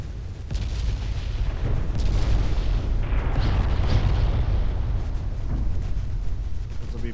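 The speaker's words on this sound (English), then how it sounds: "This is a lot of shells being fired." Naval guns fire a heavy barrage of shells in the warship game Ultimate Admiral: Dreadnoughts, merging into a loud, sustained booming roar with overlapping blasts that never let up.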